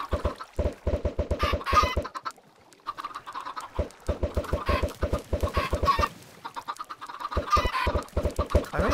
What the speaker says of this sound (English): let's get some more chickens in there